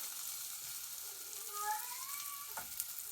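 Butter melting in a pan for Korean street toast gives a faint, steady sizzle with a soft scrape or stir near the end, quiet and close with no talking.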